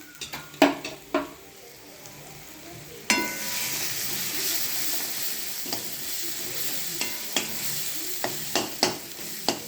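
Masala with gram flour roasting in a pan, a soft sizzle under repeated spoon scrapes and metallic clinks against the pan, close and clear, with no talk.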